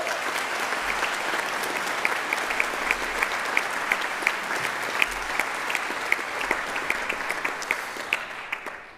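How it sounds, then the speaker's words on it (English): Sustained applause from an audience at a Scottish regional championship results ceremony, dense steady clapping filling the whole stretch and fading at the very end. "so I think we should give them a round of applause as well."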